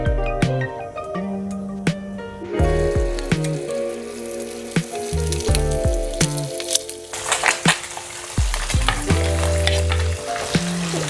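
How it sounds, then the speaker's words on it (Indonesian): Oil sizzles steadily while beef tripe fries, with loud clatter, stirring and scraping of utensils against a pan over a dense crackling hiss. "Minyak gorengnya sudah panas. Saya akan masukkan babat-babatnya ini."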